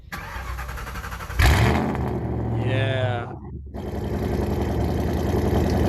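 A 4.6-liter V8 engine with a full straight-pipe exhaust cranks and fires with a loud, raw roar, revs briefly, then settles into a rumbling idle; a voice speaks once briefly.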